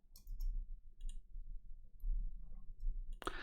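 A computer mouse clicks a few times, sharp and quiet, while someone edits clips during a live stream, with low background hum between clicks.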